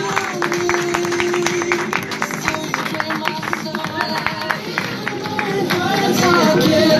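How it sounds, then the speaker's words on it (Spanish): Scattered crowd clapping for a bike trial rider at a motorcycle dealership exhibition, sharp claps spread through the whole stretch over a busy background murmur that grows louder toward the end. "Un fuerte aplauso para él."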